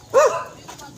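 A single short dog bark rings out close by, followed by faint background noise.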